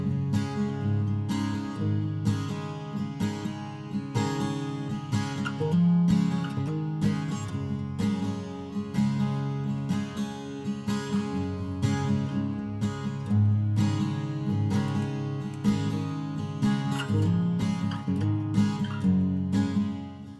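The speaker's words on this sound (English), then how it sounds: "Acoustic guitar 1 sounds like this." An acoustic guitar rhythm part, recorded with a Rode NT1A and lightly compressed, strums steady chords for about twenty seconds in an even, repeating pattern, close and alone with no voices.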